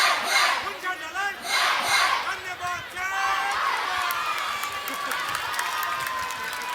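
Loud audience applause and cheering at a storytelling event on Johar history, with dense clapping swelling in waves and voices calling out across the whole stretch.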